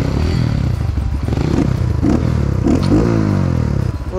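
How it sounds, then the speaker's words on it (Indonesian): A fuel-injected motorcycle engine revs close by in a loud burst, rising and falling in pitch with a dense, full tone amid some clattering and scraping. "Untuk suara karakter injeksi padet, enggak cemplang."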